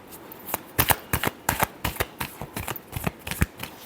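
Tarot cards are shuffled by hand in quick riffling bursts, about a dozen crisp flutters in an even rhythm, close and alone.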